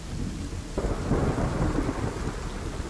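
A low rumble of thunder rolls in over steady rain, swelling after a quiet start and lingering as a broad, muffled roar.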